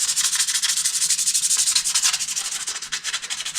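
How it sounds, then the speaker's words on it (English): Steady abrasive sanding on a rusted steel body panel of a 1957 Chevy, a continuous close, loud rasping scrub with a quick back-and-forth rhythm and no talk. "I don't usually record me doing body work or sanding"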